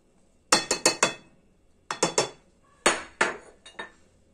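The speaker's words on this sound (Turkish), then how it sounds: "Şimdi 3 yemek kaşığı nişastamızı içerisine döküyorum." A spoon taps against a bowl in quick clinking groups of three or four, bright and close, as spoonfuls of starch go into the bowl.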